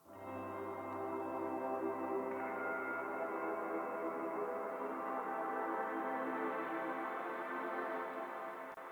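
Layered atmospheric synth pads from Aura sample packs, including the Freefall Aura pack, hold a soft, sustained wash of airy tones that swell in gently and continue evenly, quiet and without voices.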